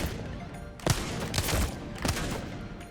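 Wingman pistol fire in Apex Legends headshot practice, with several heavy single shots spaced about a second apart over a dense, noisy game background.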